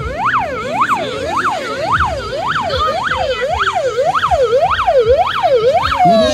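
A fire engine from the 58th fire station in Muninsky district arrives at a firefighting demonstration in Saint Petersburg, its siren wailing up and down in quick, regular sweeps, loud and close throughout.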